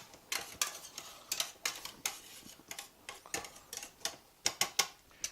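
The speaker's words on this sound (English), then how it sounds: "want to give my onions and my garlic a good stir" Onions and garlic are stirred in a pot, giving a quick, irregular run of close, crisp clicks and scrapes of a utensil against the pot's sides and bottom.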